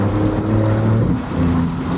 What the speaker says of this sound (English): I can get even more connected to the engine if I lower the rear screen behind me, which I'm doing now